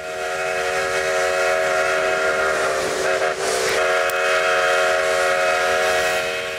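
A steam train whistle sounds in a long sustained blast of layered harmonic tones over continuous rail rumble, loud and steady throughout with no talking.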